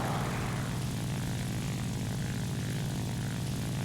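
A La-5 fighter plane's propeller engine in the War Thunder video game drones steadily and loudly throughout, a dense, continuous roar with no talk or breaks.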